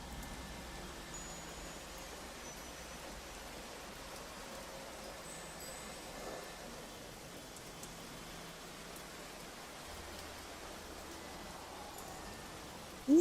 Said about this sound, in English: Well, you know, it's raining.